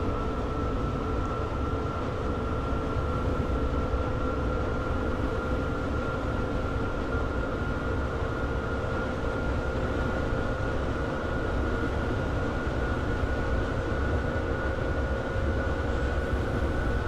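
Steady, loud running noise of a BR442 electric train in Train Simulator 2016 on the Berlin–Leipzig line, a continuous rumble with a sustained whine that holds evenly for the whole stretch, with no talking.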